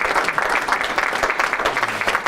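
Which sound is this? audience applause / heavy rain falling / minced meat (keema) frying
audience applause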